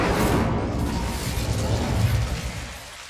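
An Incendio fire spell in Hogwarts Legacy gives a loud, close, rushing roar of flame that holds for a couple of seconds before fading out.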